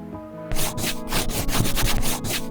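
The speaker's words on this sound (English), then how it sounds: "I have to undo all the painting that I did do previously by sanding it off" Rapid back-and-forth scraping of sandpaper sanding paint off wood, a close, rhythmic rasping that starts abruptly after a short pause and keeps going steadily.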